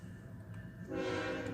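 A K5HL air horn sounds from a passing Tier 4 GEVO locomotive, blaring in strongly partway through with a rich, sustained chord over rumbling train noise, loud and fairly close.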